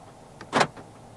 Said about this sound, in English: this car does have power folding side mirrors